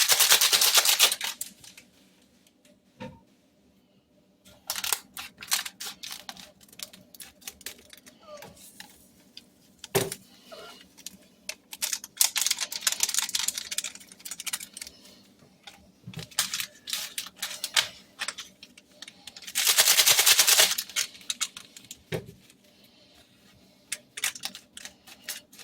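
Gelatin packets being torn open one after another by hand, giving bursts of crisp ripping and rustling paper separated by quiet gaps, with small clicks and handling noises between them.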